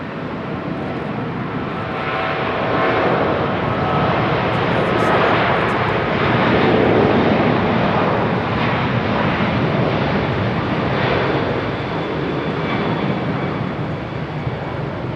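A Boeing 777 moving at Charlotte Douglas airport gives off a loud, steady roar of jet engines that swells slightly in the middle and holds for the whole stretch, with no talk.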